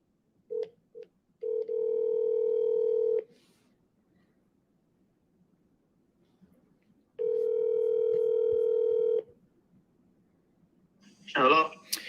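A telephone call being placed: short dial tones, then two long rings separated by a pause, loud and close, with a voice picking up at the end.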